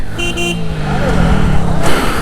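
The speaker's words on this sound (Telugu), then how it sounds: "సో చాలా ట్రాఫిక్ జామ్ అయింది." Honking horns from a traffic jam behind a stuck truck near Paderu, a couple of short toots early and another near the end, over a steady rumble of engines and road noise.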